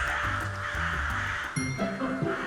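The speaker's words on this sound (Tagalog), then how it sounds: "Sa tahimik na gubat, may grupo ng maiingay na uwak." A group of noisy crows cawing repeatedly in a quiet forest, the harsh calls overlapping loudly and continuously with no pause.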